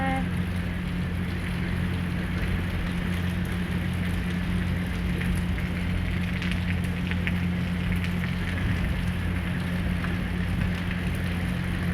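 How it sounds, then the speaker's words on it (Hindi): Rain pours steadily outside a PG hostel as strong wind blows, making a dense, unbroken hiss with a low rumble that holds constant and fairly loud throughout. "बारिश हो रही है."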